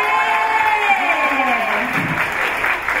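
An entrance-ceremony audience at a Seoul performing-arts school applauds and cheers for a guest professor, a dense, loud wash of clapping with crowd cheers and shouts swelling throughout, with voices talking over it.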